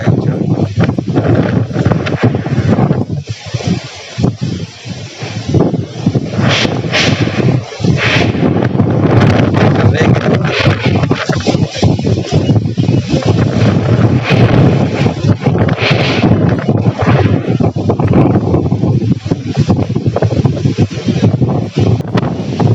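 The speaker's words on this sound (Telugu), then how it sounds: "భయంకరమైన గాలి వస్తుంది" Strong summer wind in Karimnagar buffets the microphone in loud, continuous roaring gusts, with rushing turbulence rising and falling throughout.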